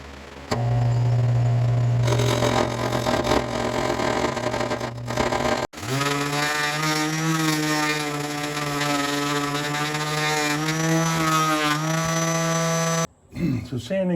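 Wood turning on a lathe to flush glued rings on a bowl-stabilized piece, a loud steady motor whine with rising harmonic tones and a harsh cutting rasp, briefly cutting out midway and again near the end.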